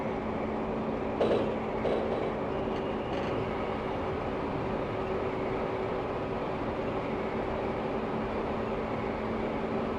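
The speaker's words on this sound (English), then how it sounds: "Now I'll take this train up to its top speed of 100 kilometers an hour." A train in the driving game Densha de Go FINAL runs along with a steady, fairly quiet mechanical hum and rolling noise. A few faint clicks come early on, and there is no speech.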